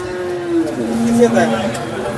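A large cow at a cattle market in Sangola lets out a drawn-out low moo that bends in pitch, heard close, with people talking nearby.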